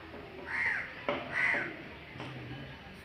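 Crows caw near a quiet forest temple in Bungamati, giving two loud harsh calls about a second apart. A fainter call follows, over soft background ambience.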